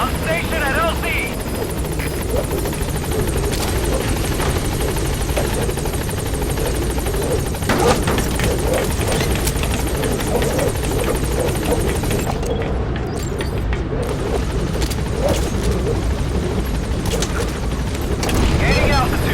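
A helicopter arrives at a landing zone in Metal Gear Solid 5, its loud sustained rotor roar and engine drone filling the scene, with a sudden shift in the high whine partway through.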